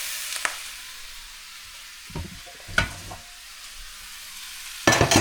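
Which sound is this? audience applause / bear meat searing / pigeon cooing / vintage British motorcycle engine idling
bear meat searing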